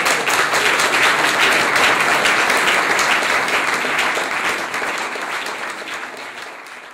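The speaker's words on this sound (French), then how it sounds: "Et on va inviter on va applaudir," An audience applauds the artists at an exhibition inauguration, thick clapping from a large crowd that stays strong for several seconds and then gradually fades toward the end.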